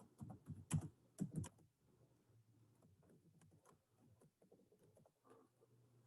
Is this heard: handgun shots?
no